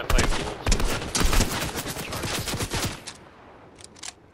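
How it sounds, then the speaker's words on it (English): Rapid bursts of video game gunfire, including a charged shot, crack loud and close for about three seconds in a shooter match on PS5, then thin out into a quieter tail with a few faint later pops. "That's where that charge shot was coming from."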